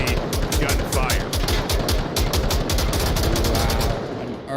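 Rapid automatic gunfire rattles almost continuously in the competitive VR shooter Onward during a championship match, a dense stream of close shots with a voice faintly underneath.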